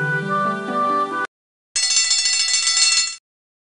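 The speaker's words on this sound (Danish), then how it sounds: "Hør på låten og prøv om du kan sette de 7 klokkene sammen til samme melodi." Bells chime a melody in the 1998 PC game Albert Åberg, first a clear tinkling phrase, then a brief silence and a brighter, harsher ringing burst, loud and close with no talking.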